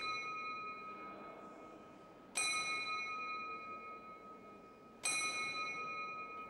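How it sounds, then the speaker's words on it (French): Two strikes of the small quarter-hour bell on Roskilde Cathedral's mechanical clock, each a sharp metallic ding with a long ringing decay, spaced a few seconds apart over a quiet interior background. "Kirsten, la sonneuse, sonne tous les quarts d'heure sur la petite cloche"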